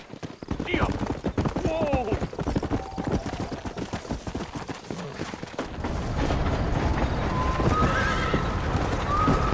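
A horse in the Red Dead Redemption video game whinnies and trots, with a rapid clip-clop of hooves running throughout, a couple of neighs early on and voices talking over the galloping.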